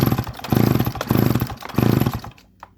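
A McCulloch Pro Mac 610 chainsaw engine sputters and revs in three loud, rough bursts as it tries to start, then cuts out to near silence with one small knock at the end.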